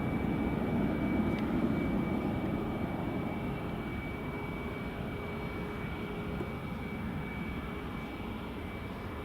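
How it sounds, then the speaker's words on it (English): EasyJet airliner at Edinburgh Airport near runway 24 in the evening, a steady loud broadband engine roar with low rumble sustained throughout, no talk over it. "lovely sound from that EasyJet"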